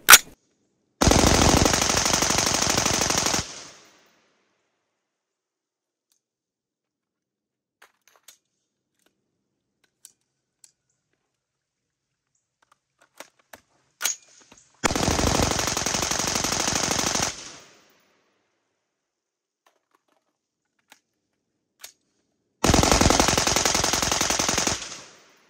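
A Caracal 816A2 rifle fires rapid full-auto bursts in a meltdown test, three long loud strings of gunfire separated by quiet gaps with occasional faint clicks and clunks between.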